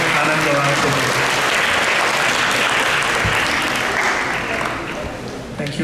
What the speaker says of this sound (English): let's give a big round of applause and welcome Anand Gauranga